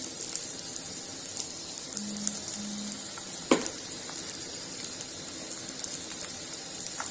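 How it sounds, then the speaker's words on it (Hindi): Chopped onions sizzle steadily in a pan with very little oil for dhaba-style matar paneer as red chili goes in. A soft, even crackle runs throughout, broken by one brief knock near the middle. "गाइस देखिए, प्याज भून गया है, इसमें डालेंगे लाल मिर्च।"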